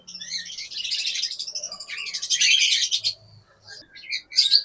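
Budgerigars and other caged birds chirp and chatter continuously at a bird seller's shop in Mohammadpur, Dhaka, a dense, bright twittering of many birds close by with brief pauses and no talk.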